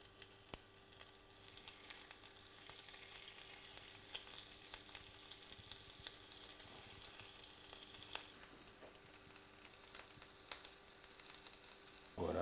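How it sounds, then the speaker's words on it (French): Butterflied shrimp sear open side down in a frying pan, giving a quiet, even sizzle with scattered small pops and ticks and a louder clatter right at the end. "Je vais venir les saisir. Et je vais d'abord mettre le côté ouvert dans ma poêle."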